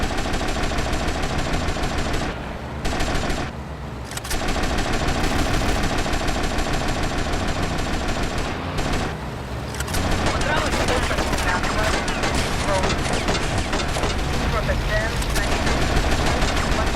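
Gunfire in the video game GTA Vice City: sustained rapid automatic shooting, loud and dense, runs through the clip with brief pauses and mixed game noise.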